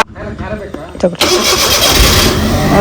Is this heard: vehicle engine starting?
yes